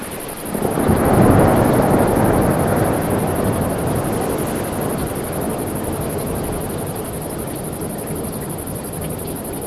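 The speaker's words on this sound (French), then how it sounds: "Le vent souffla et la pluie tomba jusqu'à l'aube." A stormy roar of wind and rain swells to a loud peak after about a second, then holds as a dense, steady rushing wash with no speech.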